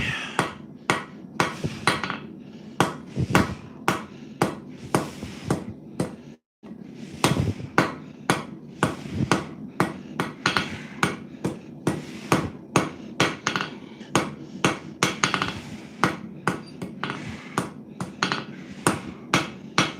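A hand hammer strikes metal stock in a blacksmith's forge, ringing out in a steady rhythm of about two blows per second, close and clear with one brief pause midway.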